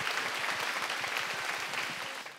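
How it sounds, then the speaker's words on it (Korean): Concert crowd at an environmental music talk show applauds to welcome a singer from a duo onto the stage, a brief, even burst of many hands clapping that tapers slightly at the end. "잠깐 모셔볼까 하는데 여러분 박수로 맞이해 주시기 바랍니다"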